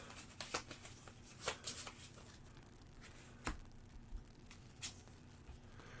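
A deck of cards for a solo tabletop card game is shuffled up close, giving soft, quiet riffles and sharp clicks at irregular intervals.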